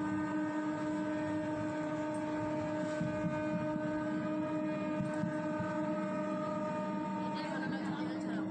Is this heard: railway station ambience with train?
yes